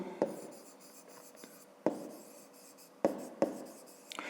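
A pen scratches across paper in short strokes, with four distinct taps and scribbles spaced a second or two apart, close and fairly quiet in an otherwise still room.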